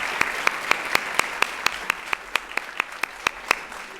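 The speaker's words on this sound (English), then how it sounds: "Let's give them all a round of applause." Audience applause for designers and entrepreneurs at a fashion education workshop, fairly sparse, rhythmic claps with a few distinct hands standing out over a softer crowd patter, moderately close.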